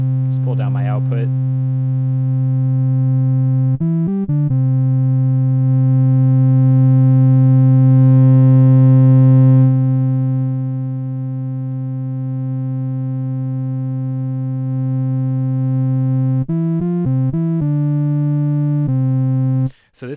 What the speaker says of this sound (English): So this is a really characteristic kind of tubey sound.